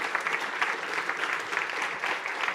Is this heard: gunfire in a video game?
no